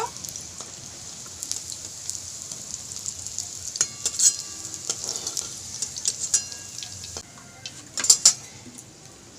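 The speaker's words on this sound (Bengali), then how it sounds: "বাকি কোপ্তাগুলো আমি একইভাবে ভেজে নেব।" Prawn koftas frying in oil, a close, crackling sizzle with sharp pops and bursts of spattering that grow louder toward the end, no speech.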